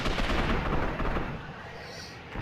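An electric gun fires in the video game Gotham City Impostors, a loud, rumbling burst of blasts that fades slightly before a final jolt.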